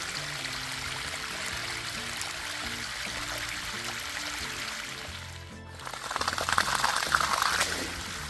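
Dirty backwash water gushing out of a swimming pool filter, a steady broad rushing flow that surges louder near the end, with no talking.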